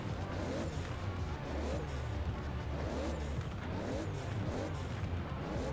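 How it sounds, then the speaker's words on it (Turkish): A race car engine revs in repeating surges in the game Forza Horizon 4 during a drag race, with a synthetic, game-like tone, at steady moderate loudness and with no voices. "Şu arabanın sesine bakın ya"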